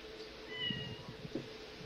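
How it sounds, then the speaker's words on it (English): A faint cat meows a few times in the background over a low steady hum, quiet and somewhat distant. "I can hear his cat."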